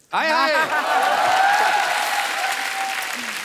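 A studio audience at a comedy talk show breaks into loud, sustained applause that starts abruptly and carries on evenly, with some voices and cheering mixed in.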